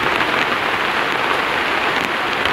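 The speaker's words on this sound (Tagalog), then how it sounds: "sobrang lakas ng ulan" Heavy, steady downpour drumming on surfaces in a storm, a loud continuous hiss of rain with no pause and no voices.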